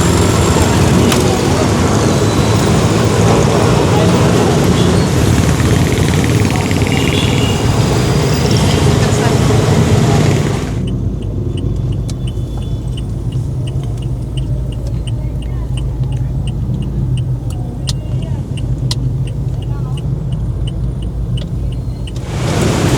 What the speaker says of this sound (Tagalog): So ito na yung tow truck na sasampa dito sa motor.